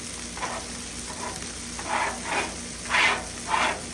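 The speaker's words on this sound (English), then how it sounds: "So all the buns are browning." Sandwich buns brown on a buttered griddle while a chopped cheese is made, a steady close sizzle with swelling swishes and scrapes as they are moved around.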